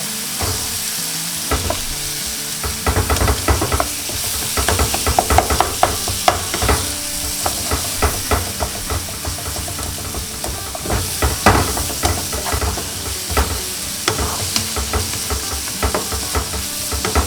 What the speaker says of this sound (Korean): 이렇게 지금 양파가 투명하게 된 게 보이시죠? 그러면 이제 된장을 넣어주세요.